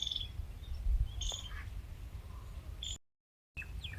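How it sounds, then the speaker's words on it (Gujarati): Several short bird calls ring out across an open village farm field growing red chillies and onions, scattered and fairly faint over a steady low rumble of outdoor background noise, with a brief gap in the sound. "પક્ષીઓ કેવા બોલે તો"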